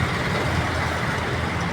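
Jeepney engine idling and rumbling amid steady street traffic at Kalentong, Mandaluyong City near a marketplace, a dense broadband roar with a low throbbing undertone and no talk.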